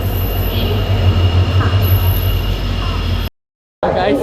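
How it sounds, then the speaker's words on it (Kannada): Express train pulling into a station platform, a steady loud rumble of rolling wagons and wheels with high-pitched squeal running throughout, broken by a brief cut to silence near the end. "ನನ್ನ ಟ್ರೈನ್ ಬರ್ತಿದೆ, ನೀವು ನೋಡ್ಬೋದು ಇಲ್ಲಿ ಇದೇ ಟ್ರೈನ್"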